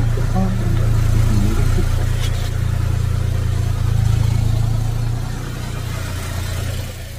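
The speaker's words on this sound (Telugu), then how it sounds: "ఆ కార్ సౌండ్కి నేను మాట్లాడేది వినవడట్లేదు కదా" Low, steady rumble of a car engine while driving, with a faint voice talking underneath the drone.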